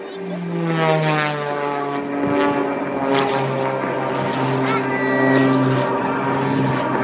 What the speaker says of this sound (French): un avion hélice dont le couple est si puissant